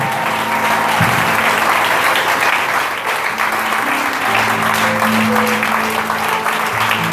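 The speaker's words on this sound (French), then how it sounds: "Acclamez très fort s'il vous plaît" Church congregation applauding loudly and steadily through a Sunday worship service, a dense sustained clatter of many hands with a held musical tone underneath.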